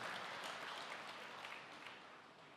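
A church congregation gives a lively round of applause, a dense, even wash of clapping that carries on steadily and fades only slightly toward the end.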